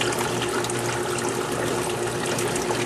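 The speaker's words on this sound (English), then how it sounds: "As you can see, the water goes into the bucket." Steady rushing water from a hose fed by a pump on a 220-gallon reef aquarium's remote sump, pouring continuously into a bucket, loud and close with no talk.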